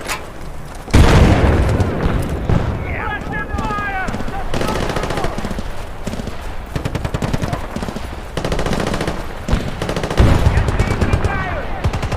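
Battlefield: Bad Company 2 combat on PC with loud, close machine-gun bursts and rapid gunfire, punctuated by heavy booms and explosions, with a voice speaking intermittently under the shooting.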